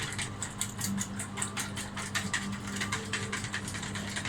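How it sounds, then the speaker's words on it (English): A whisk beats eggs in a bowl in a quick, steady clicking rhythm, close and moderately loud, with no talking. "So I'm going to whisk these up first."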